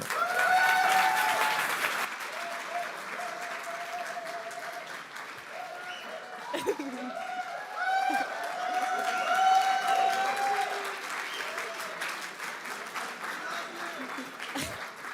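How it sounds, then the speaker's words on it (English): Applause and cheering from a startup event audience, a long spread of clapping with voices and whoops rising over it, moderately loud and gradually thinning. "half of that applause was definitely to her"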